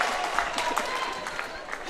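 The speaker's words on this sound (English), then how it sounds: "The crowd is going wild" Crowd noise at a women's NBL1 basketball game, a dense steady roar of cheering and clapping with a voice speaking over it.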